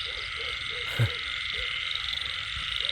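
Frogs croak loudly in a rain-soaked rainy-season field, a steady pulsing chorus of repeated calls close by, with one sharp thump partway through and no voices.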